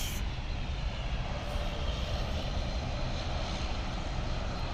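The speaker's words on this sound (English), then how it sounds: "Oh, what a nice sound, eh? The prop, very nice." A propeller airliner's engines at Toronto's YYZ airport drone loudly and steadily, a close, rumbling roar with a buzzing edge that holds at an even level throughout.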